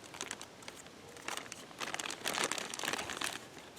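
Aluminum foil wrapped around a bundle of fat wood from a fire kit, crinkled and crumpled by hand in close, irregular bursts that swell louder toward the end, with no talking.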